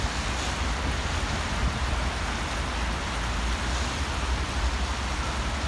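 Heavy rain mixed with snow falling hard in Moscow, a steady broadband wash of noise that stays loud and unbroken throughout, with no voices.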